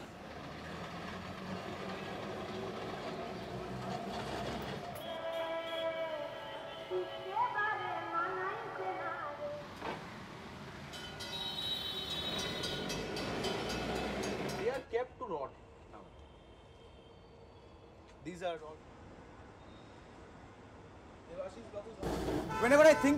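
An old tram runs through Kolkata, India, its rumble and clatter rising and falling with squealing tones and bursts, heard under and between someone speaking.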